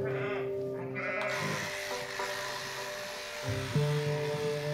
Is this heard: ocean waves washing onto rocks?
no